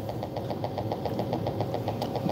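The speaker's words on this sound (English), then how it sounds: "listen as you hear the engine rev up to its top end of 1200 RPM" A simulated aircraft engine in a flight simulator drones steadily with a rapid, even pulsing beat at moderate volume, with no talk.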